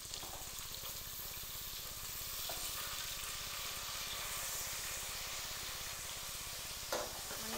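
Sliced onions sizzling in hot oil in a pan for a crab gravy, a steady close hiss that continues alone throughout, with a couple of faint clinks of stirring.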